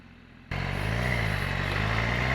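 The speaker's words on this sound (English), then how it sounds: "this is just the stock exhaust, not even a full system or something" A 2018 BMW S1000RR motorcycle with its stock exhaust starts up abruptly after a short quiet moment, then holds a loud, close, steady engine drone with a strong low hum, and no one speaks.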